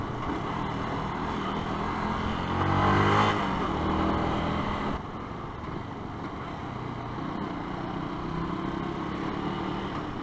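A motorcycle rides through London traffic, with a steady engine drone and wind rush. Another vehicle swells louder as it passes nearby partway through, and no one speaks.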